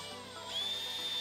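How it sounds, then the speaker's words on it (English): A cordless drill fitted with a 32mm spade bit bores into a door, giving a brief, close, high whirring whine that rises slightly in pitch partway through. "So now I'm going to drill out for my keep. I grab the 32mm spade bit, put it in my cordless"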